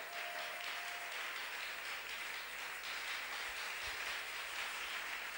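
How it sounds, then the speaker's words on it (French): A church congregation breaks into sustained applause after a call to acclaim Jesus, a dense, even roar of many hands clapping that fills the whole stretch without pause, with no talk over it. "Acclamons Jésus et élevons-nous"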